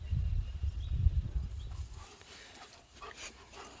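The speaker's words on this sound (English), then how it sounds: "As you can hear by the animals in the background, chickens and dogs" A dog barks in the distance outdoors, with low rumbling noise dominating the first half before fading into quieter ambient background sounds.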